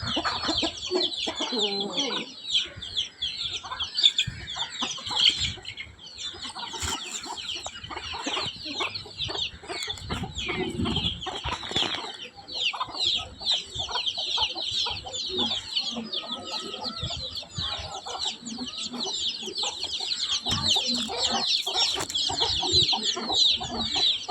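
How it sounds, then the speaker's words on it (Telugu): Turkey roaming around a farmyard, clucking and gobbling in irregular bursts over a busy outdoor background with other birds, continuous and moderately close. "ఇదిగోండి చాలాసార్లు టర్కీ కోడి ఇక్కడ తిరుగుతూనే ఉంటుందండి ఎప్పుడు"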